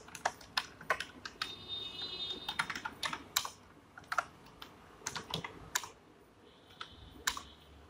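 Python code is typed on a computer keyboard, with rapid uneven bursts of crisp key clicks and taps close to the microphone, mostly alone, with a few brief faint tones in the background.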